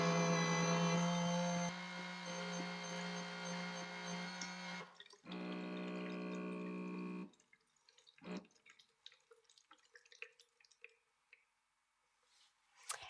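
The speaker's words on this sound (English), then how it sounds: "their patented mixing technology mixes the formula and water to the perfect consistency every time" A Baby Brezza Formula Pro Advanced machine mixes formula and water, giving a steady mechanical hum with a tonal whine that stops and restarts, then fades into scattered drips and small clicks.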